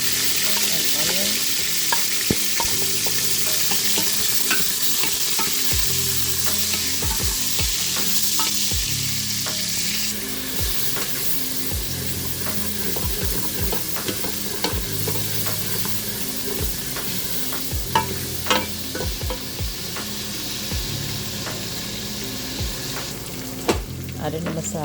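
Meat sizzling in a pot with mustard seed, cumin, green onion and onion, a steady loud fry broken by frequent clattering stirs against the pot, with no talk.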